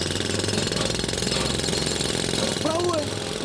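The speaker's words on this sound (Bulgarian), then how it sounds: "Хора, намерих бормашина. Може да пробим вратата с нея." A power drill bores through a locked door in a game scene. It makes a loud, continuous grinding rattle that lasts the whole stretch, with faint voices underneath near the end.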